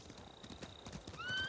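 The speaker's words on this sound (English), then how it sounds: "Bastards scared off the horses." Horses in the video game Ghost of Tsushima clop over ground in a brief, faint gallop, and a neigh rises near the end.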